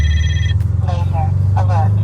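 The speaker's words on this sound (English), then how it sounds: "Laser alert." A radar detector inside a Subaru STI Type RA gives a laser alert: a short, bright, steady electronic tone, then a synthetic voice announcing the warning over the low engine hum of the car.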